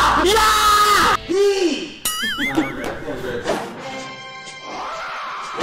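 A group of taekwondo students shout kia together in a class, a burst of loud bellowing yells near the mic, followed by whoops and scattered voices.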